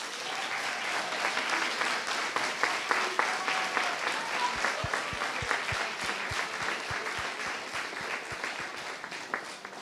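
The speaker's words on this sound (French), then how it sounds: "Je pense qu'on peut applaudir très fort les 10 participants." An audience at an inter-IAE eloquence contest in Lille applauds its ten participants with steady, dense clapping that runs the whole stretch, and a few sharper individual claps stand out near the end.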